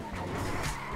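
Tyres skid and squeal in one continuous burst as a car brakes hard in a racing video game, loud and close with engine roar underneath.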